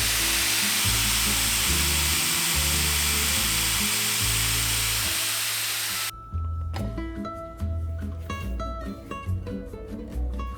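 A mini lathe takes light cuts on a motorcycle fork stem, a steady loud grinding whir with a sharp break near six seconds, after which intermittent metallic scraping and ticking follow.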